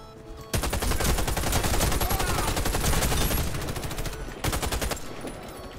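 Rapid automatic rifle fire from an A3 H-BAR in the Warface shooter on the Bazaar map, long sustained bursts close and loud with a short pause before a final burst.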